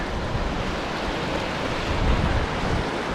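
Steady roar of rushing water near the falls by Glen Aulin High Sierra Camp in Yosemite, a dense, loud, unbroken wash of white noise heard close up.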